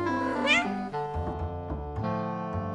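A cartoon cat meows in an animated children's read-along book, one drawn-out rising and falling meow up close, then softer tonal cries over background music.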